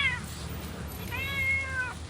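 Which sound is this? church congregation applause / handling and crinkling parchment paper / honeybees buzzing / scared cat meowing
scared cat meowing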